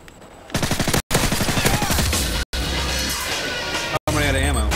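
Rapid automatic gunfire in a competitive online shooter game, loud and close, with dense bursts broken by brief silent gaps and a voice talking over the shooting.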